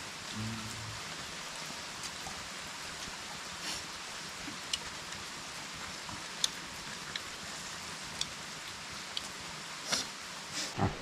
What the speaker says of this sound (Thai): ฝน